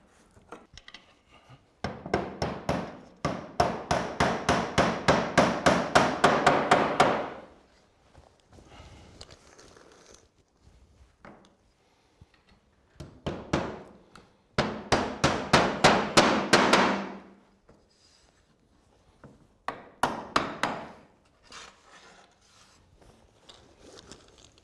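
Hammer blows driving nails into timber roof battens while fixing the top course of roof tiles, coming in several bursts of quick, rapid strikes separated by short pauses, close and loud.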